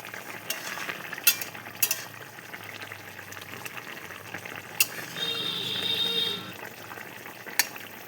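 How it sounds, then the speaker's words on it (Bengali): A pan of pabda fish curry with potato and tomato simmers uncovered, giving a low, quiet bubbling with scattered sharp clinks of a utensil against the pan and a brief swell of frothy sizzle. "এই দেখো কত সুন্দর ফুটছে"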